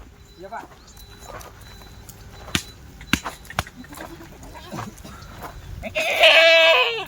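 Kathiawari goats bleat near the end, a loud cluster of calls over outdoor chatter, with scattered thumps and footsteps earlier, as the goats are taken away.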